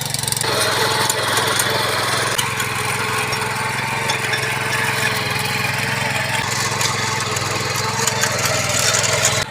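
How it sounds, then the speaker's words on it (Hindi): A small power tiller's engine runs loud and steady while tilling soil on a farm plot, with a constant mid-pitched chug and rattling, scraping noise from the tines throughout. "चलो तो चालू हो गई जी हमारी पावर टिलर।"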